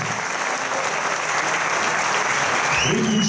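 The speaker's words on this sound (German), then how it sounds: "Euer Applaus." Audience applause fills a bodybuilding stage at a German IFBB newcomer championship, a dense, steady wash of clapping from a large crowd that runs unbroken through the whole stretch, loud and close.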